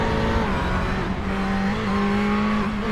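A GTE sportscar engine in a racing video game drones steadily at high revs, the tone wavering slightly as it begins to sputter, loud and continuous throughout.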